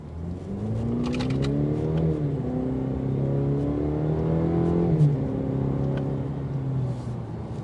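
A 2022 Cadillac CT5 sports sedan accelerating hard from a stop in the middle of a road, its engine revving and rising steadily in pitch through a gear change, loud and continuous with no talking.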